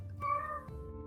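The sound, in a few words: cat meowing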